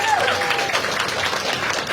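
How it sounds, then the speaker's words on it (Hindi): An audience at a Hindi-language comedy show claps briefly for a guest, a dense burst of applause heard up close through the whole moment. "सब लोग ताली बजा दो"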